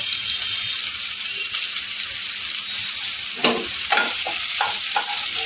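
Chopped garlic, ginger and green chilli stir-fried in a pan for paneer bhurji, with a steady close sizzle and sharp scraping stirs of the spatula toward the end, no voices.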